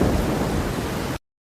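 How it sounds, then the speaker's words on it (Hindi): Heavy rain roars steadily in a dense, broadband wash with low thunder rumbling underneath, loud and continuous for just over a second before cutting off abruptly to silence. "एक रात बहुत तेज बारिश हुई"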